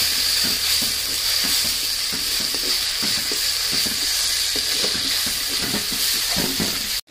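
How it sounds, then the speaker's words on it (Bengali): Chopped tomatoes and cumin paste sizzle in hot oil while being stirred and sautéed, a constant loud frying hiss with repeated soft scrapes of the spatula underneath, close up throughout. "এবার ভালো করে নাড়িয়ে কষিয়ে নেব"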